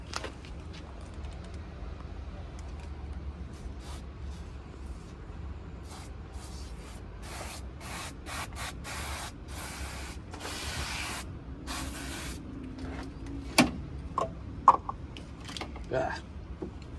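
Rust remover being sprayed onto a Toyota Land Cruiser's rusty floor, heard as a faint, steady hiss with a few short bursts toward the end, under quiet room noise and occasional light clatter.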